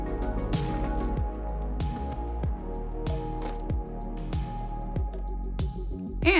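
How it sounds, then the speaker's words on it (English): Hot water rinses the chamber of an AeroPress coffee maker, a steady close running pour with repeated dripping and splashing pulses throughout. "we're gonna grab our hot water and rinse off the end of our chamber"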